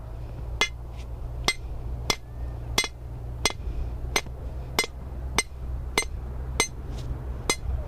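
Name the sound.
sledgehammer pounding rebar into the ground to make a hole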